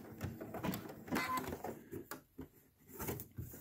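A Brother Quattro 2 (6700D) sewing machine stitches slowly through thick fabric, giving soft, uneven mechanical whirring bursts with short pauses between them, faint and close.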